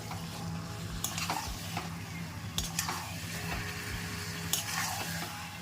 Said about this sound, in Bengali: ততক্ষণ আমরা মাংসটা কষিয়ে নিই গ্যাসটা একটু বাড়িয়ে নিই